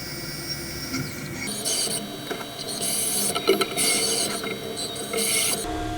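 Milling machine cutting outside and inside profiles of aluminium-style camera enclosure spacer parts to depth, a steady rasping, grinding cut with bursts of high whine, continuous and close throughout.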